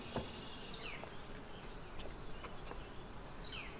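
Honeybees buzzing around a backyard hive, a dense continuous drone with a few individual bees passing near the listener over outdoor background noise.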